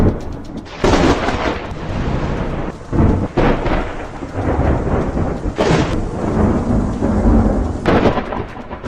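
Heavy monsoon downpour in Bhopal with repeated loud thunder cracks and rumbles over a constant roar of rain, close and intense throughout, no voices.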